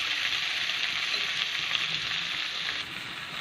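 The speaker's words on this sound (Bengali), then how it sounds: "এবার একটু লাল লাল করে ভেজে নেব।" Potatoes frying in ghee with cumin and spices in a pan give off a steady, close, continuous sizzle that holds even throughout, with no voices.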